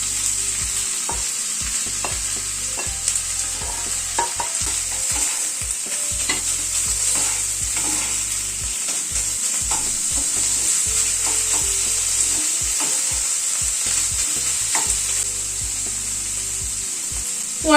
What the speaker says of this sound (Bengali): আদা, পেঁয়াজ, কাঁচা লঙ্কা সবগুলোকে একটু ভালো করে ভেজে নেব